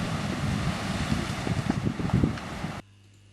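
Surf rolling onto Telawas Beach in Central Lombok, a broad rushing roar of breaking ocean waves with gusty wind buffeting the microphone, loud and close before cutting off abruptly near the end.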